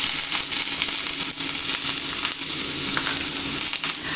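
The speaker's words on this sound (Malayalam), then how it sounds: "അതിലേക്ക് 2 സവാള ഇട്ട് കൊടുക്കണം." Two onions sizzle loudly and steadily in hot coconut oil in a pan while a Kerala fish biryani masala is started, a dense continuous hiss with faint stirring and no voices.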